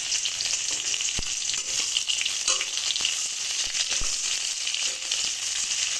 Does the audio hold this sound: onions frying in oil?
yes